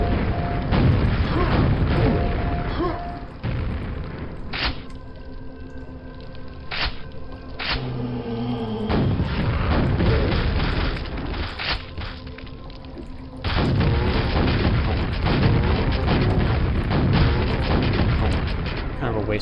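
Rocket explosions in Quake, several heavy booming blasts and thuds among dense, loud game noise with mechanical hums, close and punchy.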